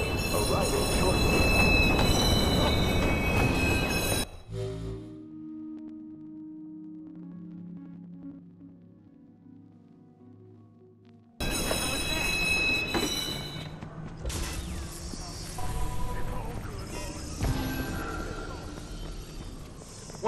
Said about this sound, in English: Eastbound train arriving shortly.